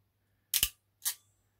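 A ratcheting power crimp tool squeezing the largest wire terminal for a VW T4 split charging system, two sharp close mechanical clacks about half a second apart in an otherwise quiet room.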